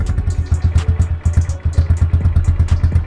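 A Champion 150cc motorcycle running just after a cold start, close and loud, with a lumpy, uneven low-pitched idle that pulses rapidly and briefly falters, and no talking.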